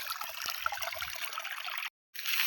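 Irrigation water trickles and flows softly through furrows in a sugarcane field, a faint continuous babble with a couple of small knocks and a brief dropout.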